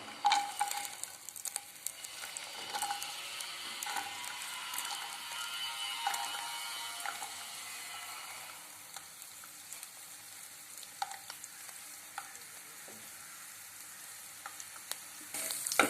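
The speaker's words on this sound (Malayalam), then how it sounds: "തേങ്ങാക്കൊത്ത് വറുക്കുവാൻ ഇട്ടിരിക്കുകയാണ്." Chopped coconut pieces sizzle and crackle steadily in hot oil in a pan, a soft, continuous frying hiss with scattered pops throughout.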